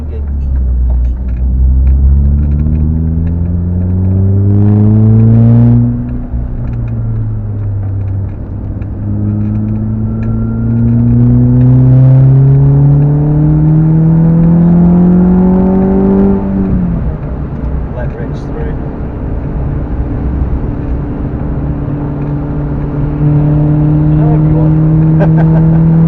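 A Renault Clio 182 laps a wet Cadwell Park circuit, its engine droning loud and close from inside the cabin, pitch climbing through gears and easing off under a steady throttle, with an instructor talking throughout.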